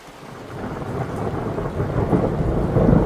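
Thunder rolls during a countryside storm as dark clouds gather, a deep rumble that swells steadily louder, with rain noise mixed in and no voices.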